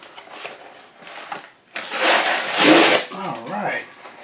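Cardboard of a comics shipping box is torn and ripped open by hand with no cutter, bursts of loud tearing and crinkling between pauses, with someone talking briefly.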